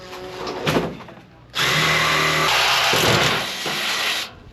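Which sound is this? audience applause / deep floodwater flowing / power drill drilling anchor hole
power drill drilling anchor hole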